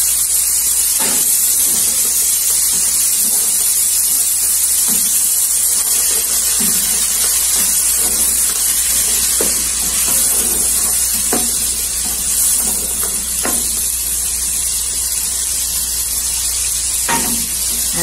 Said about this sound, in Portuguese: Estou fritando aqueles legumes que vai sobrando.